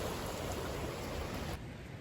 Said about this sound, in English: the rain has finally arrived. It's just kind of a very fine rain